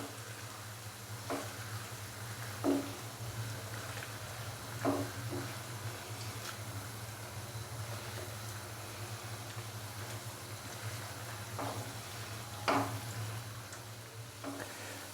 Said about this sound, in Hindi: आलू डालने के बाद अच्छे से मिक्स करेंगे और मसाले के साथ आलूओं को हल्का सा भून लेंगे